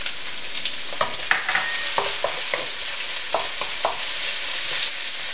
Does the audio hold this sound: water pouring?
no